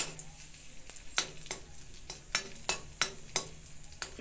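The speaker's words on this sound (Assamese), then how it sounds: "অকণমান ঘি দি পেলাই, ঘিতে মই কিচমিচকেইটা ফ্ৰাই কৰি লৈছোঁ" Raisins frying in ghee, stirred in a pan, with a steady low sizzle broken by a regular run of sharp scraping clicks from the spoon, close up and with no talk.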